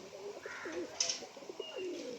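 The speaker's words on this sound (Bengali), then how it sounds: "ওই পায়রাটা দেখুন, নর পায়রা ডাকছে" A male Giribaz pigeon gives soft, faint cooing notes nearby, low and murmuring in a quiet setting, with a brief brighter chirp partway through.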